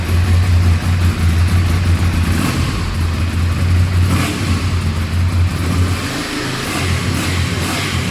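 Engine revving through a stock exhaust pipe on a 2014 vehicle, a loud, close, low droning rumble that rises and falls, with no speech over it.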